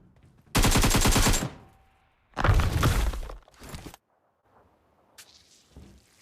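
Gunfire in PUBG Mobile comes in two long, dense automatic bursts and a shorter third, all loud and close, then falls mostly quiet with faint scattered sounds.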